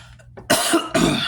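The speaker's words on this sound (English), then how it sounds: "this cough is pissing me off." A faint throaty sound, then two loud, rough coughs in quick succession, very close and harsh.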